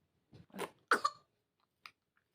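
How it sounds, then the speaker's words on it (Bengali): A sick girl coughs in a short close burst, several harsh coughs together, followed by a couple of faint, isolated smaller sounds. "মেয়েটা কেশে কেশে পুরো পাগল হয়ে যাচ্ছে।"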